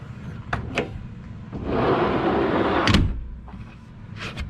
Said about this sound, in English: Drawers all good, all lock in and out.